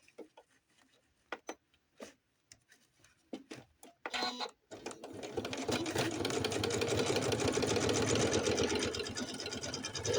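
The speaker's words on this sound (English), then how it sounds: "We're gonna sew this other one." A sewing machine stitches new slacks for a doll. A few scattered taps and handling noises come first, then the machine starts and runs with a steady, close, rapid mechanical whirr to the end.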